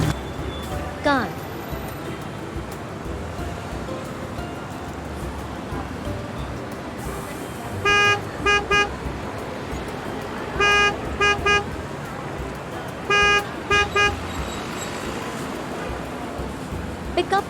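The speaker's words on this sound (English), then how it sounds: "Car." A car honks its horn in several short bursts, some doubled, over a constant rushing background of road and wind noise, with no voices.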